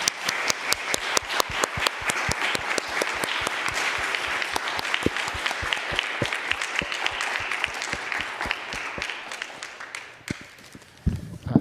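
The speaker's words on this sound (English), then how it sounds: "let's give our panelists a round of applause for a great discussion tonight" A modest audience at a foreign relations council panel gives a round of applause, distinct individual claps pattering steadily before thinning out and fading near the end.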